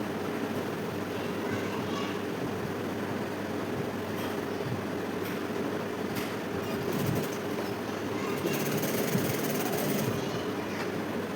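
A sewing machine stitches the side seam of a blouse in a tailoring setup, giving a steady, quiet mechanical whir and rapid clatter that runs continuously from start to finish.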